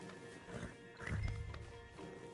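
Horse in Red Dead Redemption 2, moving with hoof clatter and a snort-like burst midway over a game soundscape, moderately loud and close.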